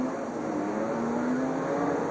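Kenny Wallace's NASCAR Busch Series race car at Hickory in 1992 rising through the gears on the lead start, a faint distant engine whine climbing in pitch under broadcast hiss.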